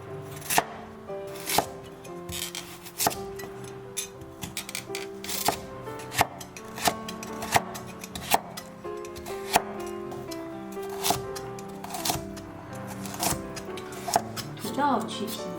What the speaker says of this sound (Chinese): 胡萝卜去皮切丁。